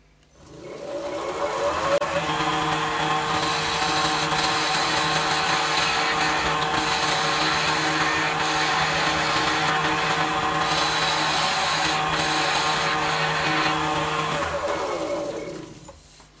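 Wood lathe spinning a small pen blank while a skew chisel cuts, a steady, loud whirring hum with a high whine that holds for about fifteen seconds before spinning down.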